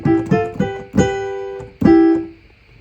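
An electric guitar through a harmonizer pedal plays the melody of a song in parallel thirds: a few plucked, sustained harmonized notes with the last one ringing out, played alone.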